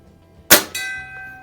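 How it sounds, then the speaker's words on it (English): A .22 pellet from a Crosman 400 CO2 repeater air rifle strikes a metal bell target, making one sharp, loud clang whose bright ring decays slowly, with a second softer impact just after. "Love ringing that bell."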